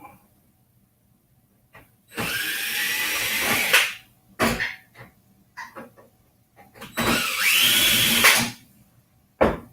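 Two bursts of a power drill, each whirring for about two seconds as it backs small screws out of a PC case, separated by quieter clicks and handling noise.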